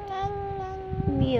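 A voice imitates a cat's meow in two short, clear, tonal calls, close and fairly loud, during a toddler's alphabet-sounds lesson at home.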